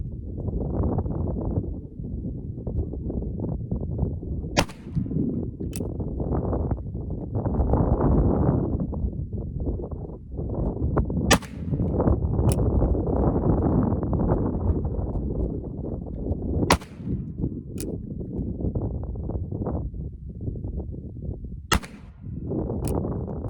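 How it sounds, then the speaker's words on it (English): Pietta 1860 Army revolver firing military-style paper cartridges, shot offhand: a handful of sharp, widely spaced cracks cut through constant loud wind buffeting the microphone outdoors. "Now I'm going to be shooting offhand to see if there's any improvement in accuracy."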